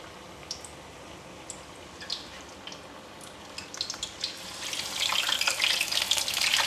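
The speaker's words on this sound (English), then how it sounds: "carefully add them in the hot oil" Battered oyster mushrooms dropped into hot oil for deep frying, building from scattered crackles and pops into a dense, loud sizzle in the last seconds.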